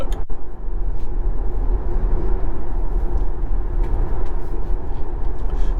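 Tesla Model Y AWD accelerating with only its rear motor driving, a smooth continuous low road and motor hum inside the cabin, steady and moderately loud with no speech.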